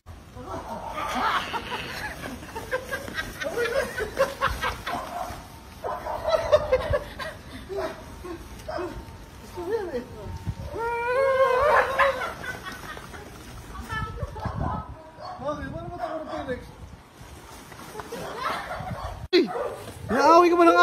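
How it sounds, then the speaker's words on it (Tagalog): Dog barking in yappy bursts scattered through a noisy domestic scene, mixed with laughter and frequent overlapping talk, the barks rising and falling in loudness across the stretch. "Naaway ka ba ng aso?"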